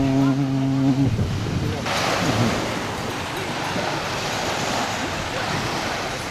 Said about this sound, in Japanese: パングラオ島のアローナビーチにやってまいりました。